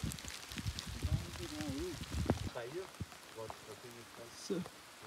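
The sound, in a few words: rain falling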